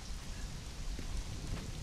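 Steady night rainfall in the video game Conan Exiles, a dense, continuous hiss of rain on surfaces with faint low rumbling beneath, moderately quiet and unbroken throughout.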